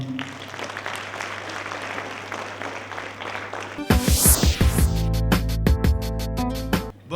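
A children's parliament audience in Sikasso claps steadily for the president, then loud music with a strong beat takes over.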